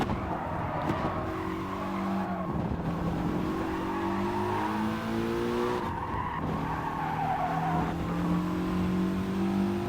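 Group 4 race car in GT Sport at the Nürburgring GP circuit, engine revving hard through the gears with rising and falling pitch sweeps and tire squeal, loud and continuous throughout.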